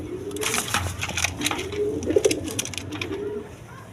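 A newly paired couple of cream-coloured pigeons cooing near at hand, several drawn-out rolling coos over about four seconds amid rustling and scratchy handling noise.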